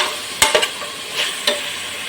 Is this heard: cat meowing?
no